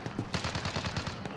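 Rapid automatic gunfire from a Call of Duty: Modern Warfare match, a quick string of about a dozen sharp shots in a burst, fairly faint and distant.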